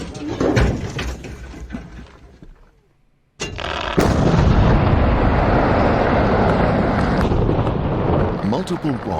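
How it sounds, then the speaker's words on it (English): A main quarry blast erupts with a massive, sustained roaring rumble after a sudden brief silence, loud and continuous for several seconds, with distant crackles and debris noise before and during. "the main blast occurred."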